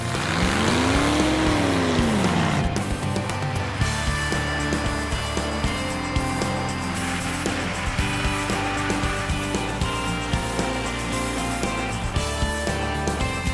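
Supercharged Ford Thunderbird engine running rough in freezing winter cold, a loud, continuous, uneven drone with a rising and falling whine in the first seconds, close by and steady throughout.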